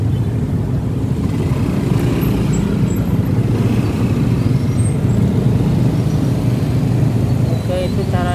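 Road traffic in a jam rumbles steadily with idling and passing engines, loud and close, while a person talks over it.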